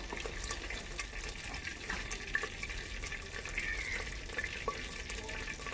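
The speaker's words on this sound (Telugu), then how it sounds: "ఇక అందులో వాటర్ ఉన్నాయి అది చిటపటమంటుంది" Water droplets hitting hot oil in a pot over a wood-fired stove while chicken curry cooks, giving a continuous crackling, spitting sizzle at moderate level with a few faint utensil ticks and no talk.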